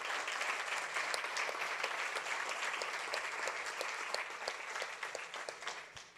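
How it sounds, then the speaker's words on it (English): Sustained audience applause fills a conference hall on open schooling, steady dense clapping throughout with no talk over it. "So big round of applause for the Brazilian team."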